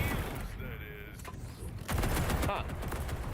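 Dense gunfire from gun fruits in a video game crackles continuously as a rapid, steady fusillade under game sounds, fairly close and busy throughout.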